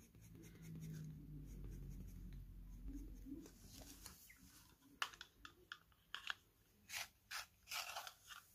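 Derwent colored pencils shade paper in a squirrel-fur drawing, a faint, close scratchy scribble that turns into short, rhythmic strokes toward the end, quiet with no talking.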